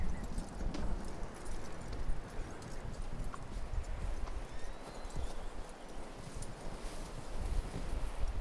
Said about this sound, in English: we got a new horse